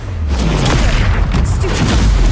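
A Bombarda explosion spell bursts in the Hogwarts Legacy video game, a loud, sustained booming blast with heavy low rumble and crackling debris across the whole moment.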